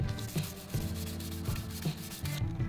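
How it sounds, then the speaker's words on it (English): Sandpaper rubbed across a smooth painted surface on a Mazda MX-5 NC roll bar cover, a steady close scratchy rasp in repeated strokes with short rhythmic pulses, alone without talk. "And this is what it sounds like on a smooth bit."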